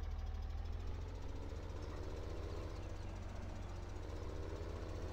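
A tractor engine in the Farming Simulator 17 video game runs at a steady idle, a low, continuous rumble with a fast knock and no talking.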